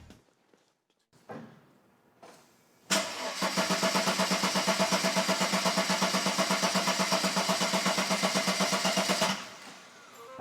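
A Mercedes 220SE engine under restoration cranks briefly, fires up loudly, and settles into a steady, rhythmic idle for several seconds before cutting off, with no talking.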